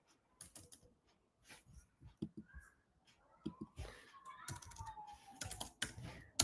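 Scattered keystrokes on a computer keyboard while JavaScript DOM code is entered, coming in irregular bursts of quiet clicks with some faint background noise.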